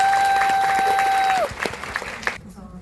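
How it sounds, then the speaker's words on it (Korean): An audience claps in welcome for director Kore-eda Hirokazu and his interpreter at a Korean fan event; a steady tone fades out first, then scattered clapping follows and thins toward the end. "큰 박수로 환영해주세요"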